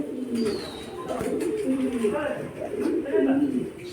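Pigeons at a pigeon keeper's loft coo in soft, repeated throaty phrases close by, with a brief chirp early on and a voice talking in the background.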